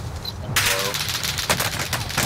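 A Welgun submachine gun firing in a shooter video game: a sustained rapid burst of automatic shots begins abruptly and keeps going, loud and close, with a voice talking in the background.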